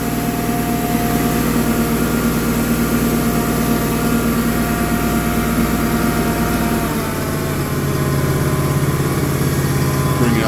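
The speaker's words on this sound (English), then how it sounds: "Bring the idle down a little bit." A smoky snowblower engine idles steadily for the whole stretch, a constant mechanical drone whose pitch drops slightly near the end as the idle is brought down, with no voices present.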